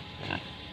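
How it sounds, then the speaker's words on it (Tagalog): A native sow grunts once in a backyard, a short, close, low nasal grunt over steady background hiss. "Ito yung ating mga inahing native."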